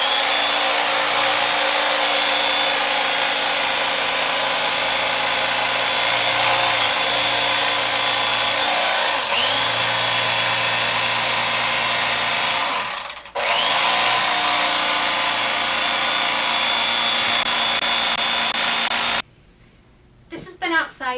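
Upholstery foam for a fabric cocktail ottoman being cut along a marked line with a power cutter, giving a loud, steady, continuous motor whine with slight pitch shifts and a brief dip, ending abruptly.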